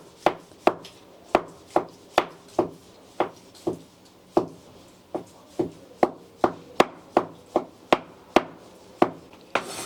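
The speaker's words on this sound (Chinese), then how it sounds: "把这一块豆腐切成小片。" Kitchen knife chopping tofu on a cutting board into small pieces, a steady series of about twenty crisp, close knocks, evenly spaced with a brief pause midway.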